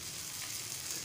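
Tokee fish frying in oil Malvani style, a steady, even sizzle of hot oil running without a break, close and moderately loud, with no voices.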